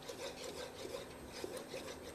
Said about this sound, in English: go ahead and whisk that up